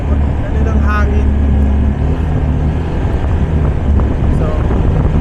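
Wind buffets the microphone during a motorcycle ride along the Marilaque highway, a loud continuous low rumble with a faint voice beneath it.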